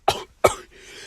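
Two sharp, close coughs in quick succession, each a loud harsh burst, followed by a faint breathy tail.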